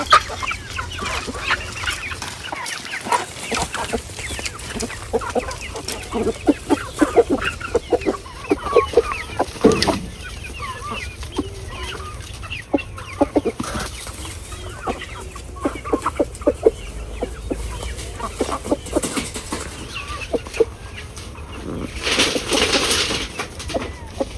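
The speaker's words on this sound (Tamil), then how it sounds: "நம்மளது கோழி பாருங்க மக்களே, நல்லா இருக்குது." A flock of backyard chickens clucks and chatters continuously near and far, with busy overlapping calls and occasional louder squawks over a steady outdoor background.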